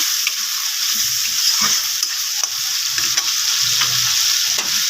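Spice paste with turmeric being sautéed in an oily pan, loud steady hiss and crackle of frying close by, with occasional soft knocks of a stirring spoon and no talking.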